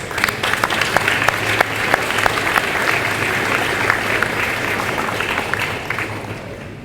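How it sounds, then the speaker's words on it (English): Audience at a high school awards ceremony breaks into loud applause, with individual sharp claps standing out near the front over a full, steady roar of clapping that gradually thins toward the end. "Please give them a round of applause for their parents, the guardians, and the loved ones who helped you get here today."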